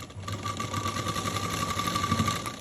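A sewing machine runs a seam on a T-shirt, producing a loud, close, continuous whirring hum with a fast, even needle rhythm throughout.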